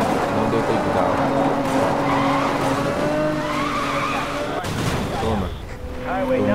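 Squealing tires and crashing impacts as a car drifts into a takedown in Need for Speed Most Wanted 2012, loud engine roar throughout with a sharp hit near the end, alongside game music.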